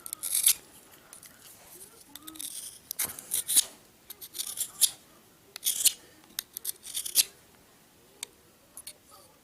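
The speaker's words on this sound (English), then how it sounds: "You can just see how much better the ceramic blade is cutting this G10 down" A ceramic blade slicing through G10 sheet, a series of irregular scratchy, rasping strokes and short crisp snips, close and fairly faint, with no talk over it.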